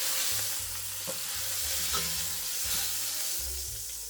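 A whole beef blade searing in a hot pan as the start of a red wine braise, a steady quiet sizzle and crackle with occasional soft stirring bumps.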